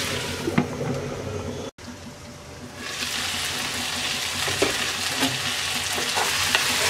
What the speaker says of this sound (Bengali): এবার আমরা মিডিয়াম লো আঁচে ঢাকনা দিয়ে ভেন্ডি আর আলু সিদ্ধ হওয়া পর্যন্ত রান্না করব।